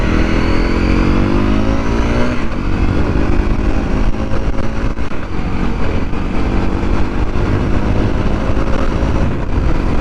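Honda CRF250L motorcycle engine revving, loud and close, running steadily and then climbing in pitch as the throttle opens, with no talking.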